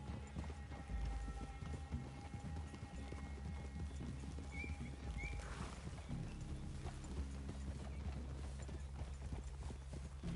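Steady clip-clop of horse hooves at a walking pace in Red Dead Redemption 2, continuous and fairly quiet, with a brief whinny partway through.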